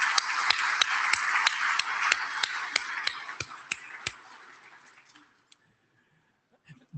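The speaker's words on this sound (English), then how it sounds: "let's please give them a round of applause for making this meeting happen for us" Applause from a conference plenary audience for meeting volunteers: sharp individual claps ring out over a steady wash of clapping that thins and dies away to near silence.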